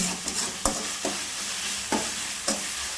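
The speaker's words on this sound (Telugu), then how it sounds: "ఇది అడగంటుకోకుండా మనం బాగా కలుపుతూ ఉండాలండి." Tomatoes and onions cook in a pan for a chicken curry and are stirred, making a steady sizzle with several distinct scraping stirs spaced irregularly and no voices.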